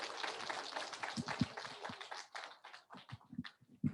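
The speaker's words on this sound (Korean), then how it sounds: "역시 박수가 제일 큽니다." A congregation at a Korean church prayer meeting applauds: a dense wash of clapping that softens after a couple of seconds into scattered, separate claps, fairly distant and moderately quiet.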